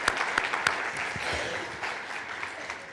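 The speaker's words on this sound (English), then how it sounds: "let's give them a round of applause" A small crowd applauds, brisk clapping at moderate distance with a few sharper claps standing out early, fading slightly toward the end.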